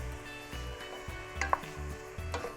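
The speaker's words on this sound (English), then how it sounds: "I'm gonna give it a quick stir here." A spoon stirs vegetable soup in a pot with beets, rinsed and drained green beans and other vegetables. Soft scraping and sloshing come in with a couple of light clinks, and a low rhythmic hum continues underneath.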